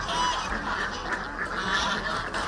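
Ducks on a duck farm in Uganda, housed on raised structures, make a steady chorus of overlapping quacks and honks that carries through the whole stretch at moderate loudness with no talk.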